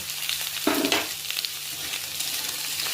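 Onions and potato pieces fry in hot oil in a pan, a steady close sizzle with a sharper burst of crackling and stirring near the start, then settling into an even hiss.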